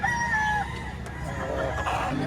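A pumpkin hen at a poultry market in Lipa, Batangas, crowing and clucking up close in a short, loud burst, with voices of people at the market underneath.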